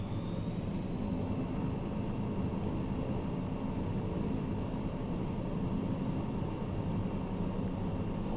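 Steady, dense aircraft engine roar at full throttle in Microsoft Flight Simulator 2020 during a bush-trip takeoff roll, constant and loud with a faint whine on top and no talking.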